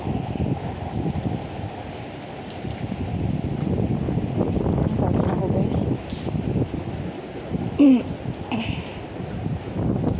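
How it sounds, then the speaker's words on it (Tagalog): Strong typhoon wind roars steadily with gusty rumble and rain hiss, while a person speaks briefly in Filipino over it. "malakas ang hangin, malakas ang ulan"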